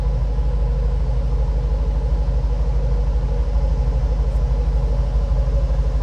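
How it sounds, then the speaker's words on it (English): A 2007 Ford Mustang Shelby GT idling through a Flowmaster exhaust, a loud, steady, deep rumble that holds constant throughout with no talk. "Take a listen to those Flowmasters."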